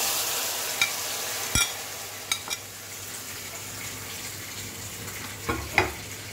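Marinated prawns fry in a wok with a quiet, steady sizzle, broken by a handful of sharp utensil taps and a louder scrape or two toward the end.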